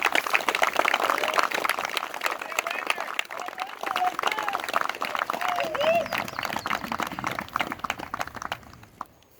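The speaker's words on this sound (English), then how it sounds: "let's get a round of applause for the POC to plan this." An audience applauds at a gathering, a dense run of many hands clapping together at an even level that slowly thins and tails off near the end, with scattered voices under it.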